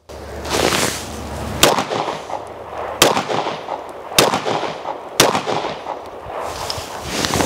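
A Shadow Systems DR920 pistol fires four sharp, loud gunshots at a range, spaced about a second apart. Each crack is followed by a ringing echo over steady outdoor background noise.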